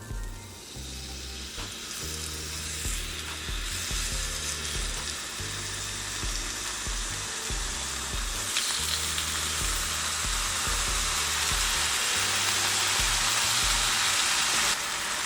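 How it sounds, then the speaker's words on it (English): Fish fillets frying in avocado oil in a pan over a medium flame, a steady close hiss and crackle of sizzling oil that grows a little brighter partway through, with no voices. "I have my flame on medium heat and I'm gonna let this fillet cook for about 3 minutes before I flip it."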